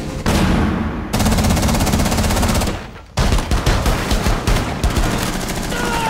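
Rapid automatic gunfire in Rainbow Six Siege, with loud sustained bursts broken by a short pause and then resuming as a stream of close, sharp shots.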